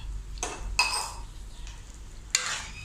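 A spoon scrapes and clinks against a metal pot of moong dal and sago payasam with milk in a few separate bursts, stirring close up with a low background hum and no talking.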